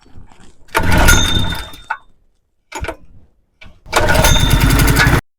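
A portable generator's small engine is pull-started with the choke on, catching in two loud, rough bursts of running with a short sputter between them, close by and with no talk.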